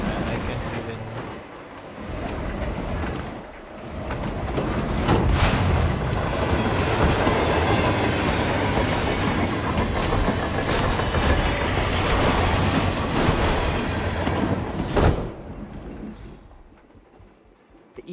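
A train rolls along rails in the Hitman 3 video game, giving a loud, continuous rumbling roar that holds for most of the stretch before dropping away near the end.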